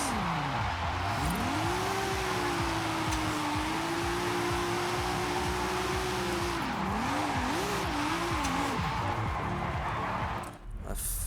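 A rear-wheel-drive car with boosted stock power drifting in Forza Horizon 5, tires squealing in one long continuous wail that wavers and warbles as the slide changes, over a steady engine roar.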